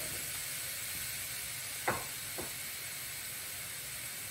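Ground beef cooks in a large cast iron skillet over medium-high heat, giving a steady, even hiss with two short clattering knocks partway through, likely from a spoon breaking up the meat.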